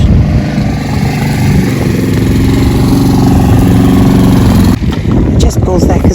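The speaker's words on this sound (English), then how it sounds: "I just paused there because of the lawnmower getting a bit loud." A lawnmower runs close by, its steady loud engine drone filling the whole stretch, with a brief dip and change in pitch near the end as the mower shifts.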